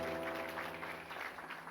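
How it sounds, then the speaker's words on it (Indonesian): Applause from a congregation at a Christmas church service, a dense steady patter of many hands, fairly faint and distant, with a sustained tonal hum beneath it. "yang bersukacita berikan tepuk tangan yang paling meriah"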